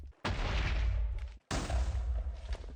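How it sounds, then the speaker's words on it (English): In Minecraft, a boat collision sets off explosions: two loud, close booms in a row, each with a heavy rumbling low end that holds for about a second before cutting off sharply. "Boat collisions are a thing and they cause explosions."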